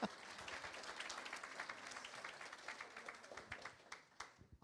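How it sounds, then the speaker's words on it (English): A small crowd at a teacher awards gala applauds steadily for several seconds, the clapping thinning out toward the end. "Another round of applause for her."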